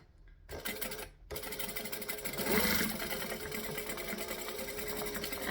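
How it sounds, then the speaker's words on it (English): A sewing machine runs steadily, stitching down the ends of fabric strips with a fast even whir and rapid needle chatter after a brief pause near the start, close and continuous. "And stitch the ends down."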